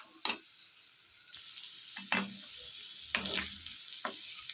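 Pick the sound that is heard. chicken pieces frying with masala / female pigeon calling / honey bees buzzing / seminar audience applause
chicken pieces frying with masala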